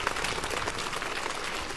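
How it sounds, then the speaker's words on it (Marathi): An audience applauds at a kindergarten school event, a dense, steady burst of clapping that fills the whole short moment with no talk. "सगळ्यांनी मोठ्या आवाजामध्ये टाळ्या वाजवायच्या आहेत"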